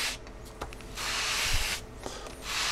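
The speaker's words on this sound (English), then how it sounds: "I'm going to just draw them across the sandpaper" Model rocket fins for an Estes Vapor drawn across sandpaper in one direction, a few soft rasping strokes with brief pauses between them, close up and quiet.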